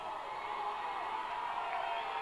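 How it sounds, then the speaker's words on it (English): A football crowd at a high school homecoming game against Rancho Christian cheers in a steady, distant roar, a continuous wash of voices with no distinct peaks. "And the crowd, they're just going wild."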